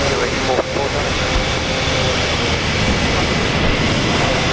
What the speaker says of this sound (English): Probably the most iconic private jet ever. I think everybody knows the Learjet. Runway 19 right, clear to land.